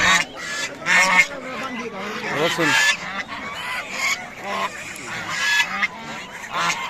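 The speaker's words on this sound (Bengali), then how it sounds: "দুটো সাইডে হাঁস আছে, মুরগি আছে" Ducks and chickens at a weekly village market in Bangladesh, loud honking quacks and fowl calls rising repeatedly through busy crowd chatter, with people talking nearby throughout.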